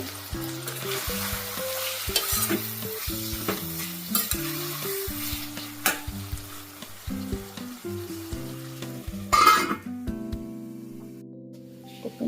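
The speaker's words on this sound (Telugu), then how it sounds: "ఇప్పుడైతే మంచిగా ఆయిల్లో ఉడుగుతుంది కదా" Chutney ingredients frying in oil in a pan over a medium flame, a steady sizzle with repeated scraping stirs of a spoon throughout, near and fairly loud, with no talk.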